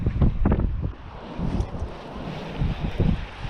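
Gusty wind buffets the microphone outdoors on a fishing outing, rumbling in irregular low bursts that swell and ease over a few seconds with no talk.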